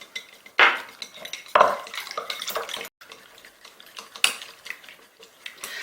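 Eggs with a pinch of salt are beaten in a bowl, giving quick uneven bursts of wet clicking and tapping against the bowl, close by, with short pauses between strokes.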